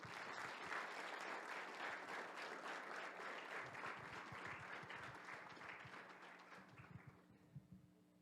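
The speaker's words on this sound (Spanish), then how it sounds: "Recibamos al ingeniero Sandria Reynoso con un muy fuerte aplauso" An audience claps to welcome the engineer Julio César Sandria Reynoso before his lecture on the chemical engineer's profile in Industry 4.0. The steady applause from a seated crowd thins into a few scattered claps and taps near the end.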